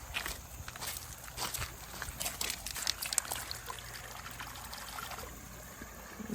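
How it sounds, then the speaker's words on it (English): Relic found while metal detecting and mudlarking is rinsed in shallow river water, giving a steady soft trickle and splash with close footsteps and sloshing throughout. "Let's go rinse it off in the water."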